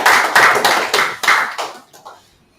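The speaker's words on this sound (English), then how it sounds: "Let's give him a round of applause." A small group at a press conference claps in a brief, rhythmic round of about seven loud, even beats that fade out quickly into quiet.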